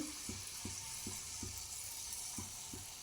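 Malpua batter frying in hot oil, a faint sizzle broken by a regular series of soft ladle taps, no talking.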